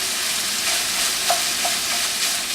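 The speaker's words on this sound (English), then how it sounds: "we're just going to go ahead and add these onions and let these soften" Onions and browned sausage fry in a pan while being stirred, giving a steady close sizzle with soft scraping strokes and small clicks of the utensil, with no voices.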